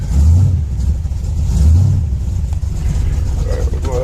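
A car engine turns over on a cold start at about 44 degrees with no choke, fitted with a TCI 3000 rpm stall converter; two low surging swells of engine rumble come up close, running steadily under the talk.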